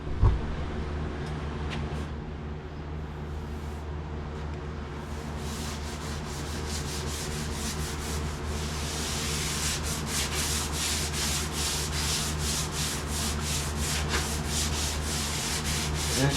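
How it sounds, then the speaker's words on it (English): Hand sanding on wood produces a steady, close scratchy rub that runs continuously, with rhythmic back-and-forth strokes growing more distinct in the second half, under a constant low fan hum. "one thing about a little hand sanding, you don't put too much dust in here."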